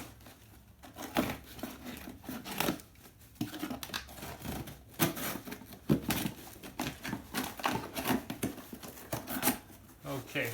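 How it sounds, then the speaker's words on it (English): Packaging for a Redragon M711 Cobra gaming mouse being cut open, with crisp snipping, crinkling and tearing of plastic and cardboard up close, irregular bursts over several seconds, a voice occasionally heard. "I should be able to just cut this open here"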